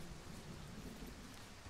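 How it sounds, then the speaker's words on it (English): Faint, rumbling thunderstorm ambience in the forest game Firewatch, a continuous low wash of rain and distant thunder rolling quietly in the background without any voices. "I am not a fan of thunder"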